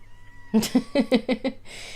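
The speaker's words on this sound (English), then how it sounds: "I will show the kitten video one more time" Kitten meowing from a played-back video, about six short high-pitched mews in a quick run, fairly clear and close, ending in a brief hiss of noise.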